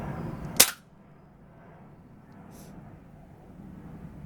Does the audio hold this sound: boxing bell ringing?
no